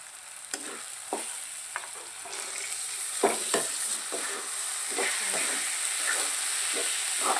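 Green mung beans fry and hiss in a pan while a spoon stirs them, making scattered scraping clinks over a steady, close sizzle.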